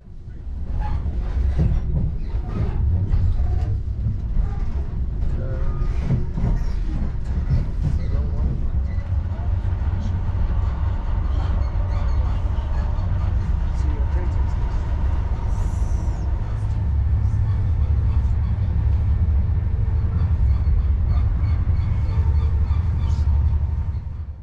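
Low, steady rumble of a High Speed Train travelling at speed through countryside west of Bristol, with rhythmic clicking of wheels on rails and a constant roar throughout.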